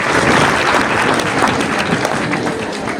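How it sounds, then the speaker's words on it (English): An audience at a school careers day claps steadily to welcome invited guests, a dense, loud wash of applause lasting throughout with no speech on top. "we now give them an applause to welcome"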